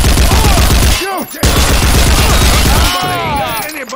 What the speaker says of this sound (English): I can still hear gunshots!